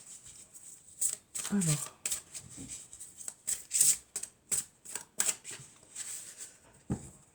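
Tarot cards shuffled by hand in soft, irregular riffling bursts, close and fairly quiet, with someone speaking over them.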